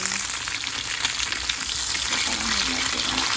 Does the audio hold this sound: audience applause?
no